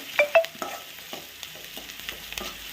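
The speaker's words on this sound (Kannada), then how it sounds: "ಈರುಳ್ಳಿ ಬೇಯಬೇಕಂದ್ರೆ ಈರುಳ್ಳಿ ಚೆನ್ನಾಗಿ ಎಣ್ಣೆಲೆಲ್ಲ ಹುರ್ಕೊಂಡು" Onions frying in oil with salt, a soft sizzle with light spatula stirring taps spread through a short stretch, fairly quiet and close.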